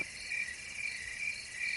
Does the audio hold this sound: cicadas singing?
yes